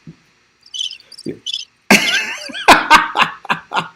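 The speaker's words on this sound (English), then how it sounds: "That's crickets." A cricket chirping sound effect plays in short high-pitched bursts, then gives way to loud laughter and chuckling from several people.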